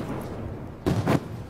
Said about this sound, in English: cannons firing.